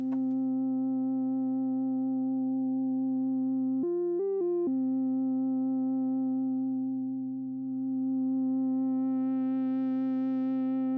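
A sustained synthesizer tone shaped by filter FM and a touch of distortion holds a steady pitch. It jumps briefly in pitch partway through, then opens into a brighter, buzzier tone toward the end, with no voices.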